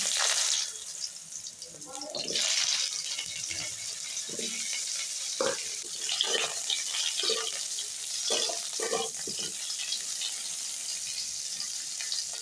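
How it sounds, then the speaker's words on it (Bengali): Raw mango pieces fry and get stirred with bay leaf and dried chili in a pan, giving a steady sizzle with scraping spatula strokes throughout. "এখন আমি নাড়াচাড়া করে আমগুলোকে একটু ফ্রাই করে নেব"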